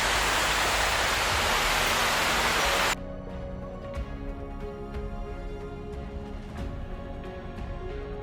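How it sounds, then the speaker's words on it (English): A waterfall on the Four Waterfalls Trail in the Brecon Beacons roars as a loud, steady, close rush for about three seconds, then drops abruptly to a quieter, more distant wash with faint tapping noises over it. "So we're heading upwards, away from this waterfall."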